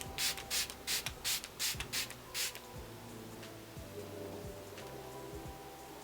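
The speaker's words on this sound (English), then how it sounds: "I'm going to start off with the Smashbox Photo Finish Primer Watcher, and I'm going to spray that all over my face." Smashbox Photo Finish primer water mists onto a face in about eight quick, soft, close pumps, followed by quiet rubbing and handling noises.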